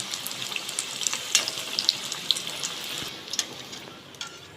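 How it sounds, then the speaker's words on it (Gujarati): Potato and rajgira flour balls deep frying in hot oil: a bright, continuous bubbling sizzle with fine crackles, close and fairly quiet, fading slightly toward the end. "આ રીતે આપણે બધા જ ગોળા તળી જશું"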